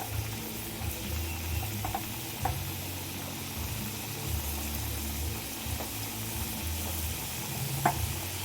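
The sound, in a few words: frying vegetable fritters (bora) in oil in a wok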